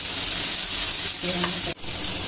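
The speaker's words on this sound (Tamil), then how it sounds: "அது வந்து தக்காளி போட்டு நல்லா வணக்கிக்கணும்" Onions and tomato sauté in a pan for a paneer gravy, giving a steady close sizzle and hiss with a brief scrape of stirring near the end.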